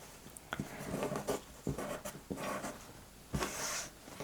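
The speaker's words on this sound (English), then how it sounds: "we'll simply come in here and cut that apart" Fabric scraps being cut apart for a crumb-style quilt block, giving a series of short, close snips and rustles in quick irregular rhythm with brief pauses, with no talking.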